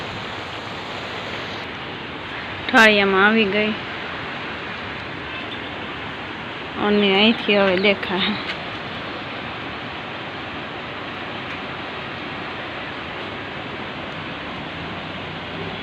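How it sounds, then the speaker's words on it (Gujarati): Rain falls steadily over a village, a continuous broadband wash of noise that persists throughout, with someone speaking briefly over it twice. "વરસાદ ચાલુ છે"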